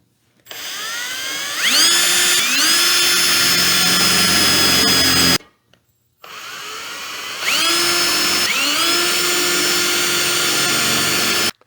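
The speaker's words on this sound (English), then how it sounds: "You're going to need to drill those with the 1/4 inch drill bit." A power drill with a 1/4 inch bit drilling holes in a metal grill whines up to a steady high pitch and holds it for several seconds, stops briefly, then spins up again for a second long run.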